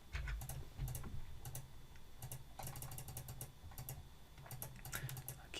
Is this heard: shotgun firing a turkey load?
no